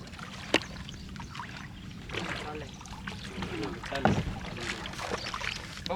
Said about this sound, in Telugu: ఇప్పుడైతే బోట్ నెట్టబోతున్నాం